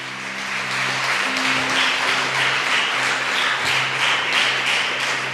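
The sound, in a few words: congregation applauding in church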